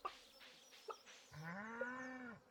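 A single drawn-out cow moo from a farming video game, rising and holding steady before cutting off, heard clearly over a quiet ambient background after a few soft chirps.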